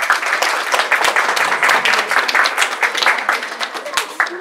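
Crowd applause at a show jumping competition, a steady, dense wash of many hands clapping close by, with some voices mixed in.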